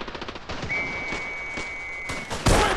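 Bursts of machine-gun fire in the WW1-themed shooter Ravenfield, a rapid series of sharp reports with thuds, louder toward the end, over a steady battlefield background with a thin whine.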